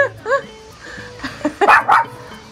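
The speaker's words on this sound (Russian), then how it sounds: "Дедушка, собачка прибежала." A small dog gives several short, close barks and yips in quick bursts, with a few quieter sounds and soft whimpers between them.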